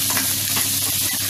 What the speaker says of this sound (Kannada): ಕರಿಬೇವು ಹಾಕ್ತಾ ಇದ್ದೀನಿ. ಸ್ವಲ್ಪ ಫ್ರೈ ಆಗಬೇಕು.